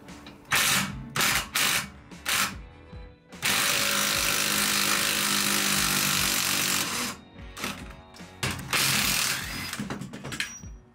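A power tool loosening bolts on a Renault Clio RS suspension, with several short rattling impact-wrench bursts, then a long continuous run of several seconds, followed by more short bursts, loud and close.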